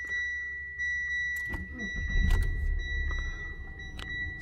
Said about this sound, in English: now I'm going to turn on the engine